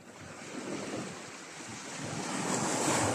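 Ocean waves splash along a shore in a steady wash of surf that swells louder toward the end, with wind noise and no voices.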